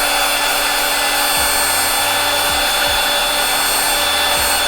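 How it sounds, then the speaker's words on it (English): A heat gun blows steadily and loudly at close range while heating vinyl overlay on a VW Tiguan MK2 badge, a constant airy roar with a low hum that shifts pitch a few times. "You take a heat gun,"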